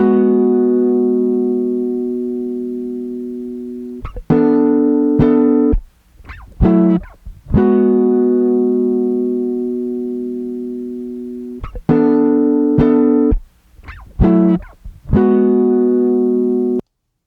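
Sustained electric guitar notes with a saturated, harmonically rich tone ring out and decay, interrupted by short choppy strums and silences.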